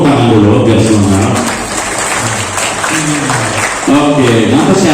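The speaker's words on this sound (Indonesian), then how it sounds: "Tepuk tangan dulu biar semangat." Students clap together at the opening of a university freshman orientation for an engineering faculty, a loud, continuous burst of applause with voices calling out over it and speech breaking through in places.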